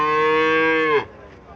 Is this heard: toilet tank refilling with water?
no